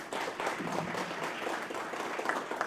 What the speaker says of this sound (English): Give them another round of applause, please.